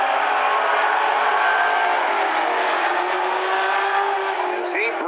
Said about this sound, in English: As he brings it off of turn number 4, Scott Wrinkle, your winner.